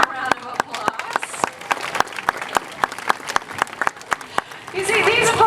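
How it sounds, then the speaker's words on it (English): An audience at a beluga show at the Vancouver Aquarium breaks into scattered applause, with sharp individual claps at first. The clapping thickens into a fuller burst as a presenter starts talking over it. "Let's give Kavna a round of applause."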